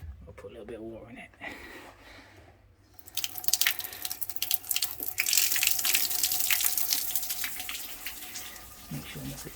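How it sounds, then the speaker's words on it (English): Tap water gushes steadily into a sink during a hot-water plumbing repair, starting after a brief quiet stretch with a few faint drips and then running continuously and fairly loud; a voice is briefly heard. "I'll put a little bit of water in it"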